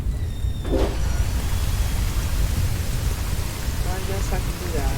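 Steady rain pouring in the video game Choo Choo Charles, a dense continuous hiss filling the whole stretch, with a brief low rumble near the start and faint tonal game sounds toward the end.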